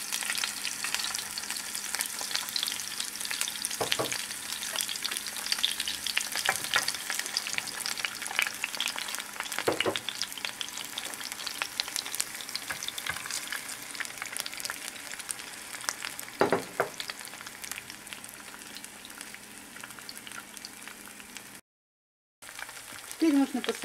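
Eggs fry in a pan with a steady, soft crackling sizzle and occasional faint scrapes, continuous and fairly quiet for most of the time before a brief dropout near the end.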